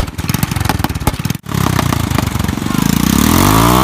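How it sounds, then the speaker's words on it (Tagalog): A motorcycle engine runs loud and close with a throbbing harmonic rumble, cuts out briefly, then picks up again with a steady, rising drone. "biglang kumagar ang aking motor"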